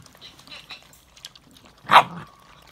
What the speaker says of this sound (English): who's growling there?